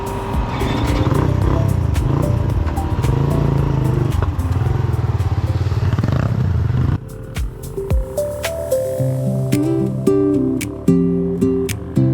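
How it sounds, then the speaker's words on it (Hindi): Motorbike engine running loud and steady at the start of a group mountain road ride, then a shift in tone around midway as the bike pulls off, with clattering and revving continuing to the end. "बाइक स्टार्ट करके चलते हैं जी"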